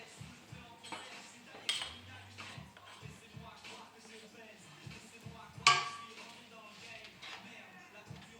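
A spatula scraping and smoothing almond sponge batter in a baking pan, soft repeated strokes with light metallic clinks, close and quiet, under someone speaking.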